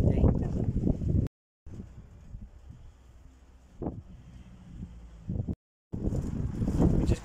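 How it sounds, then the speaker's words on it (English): Gusty wind buffets the microphone in loud rumbling bursts, with brief drops to silence and calmer stretches between gusts. "it's very windy"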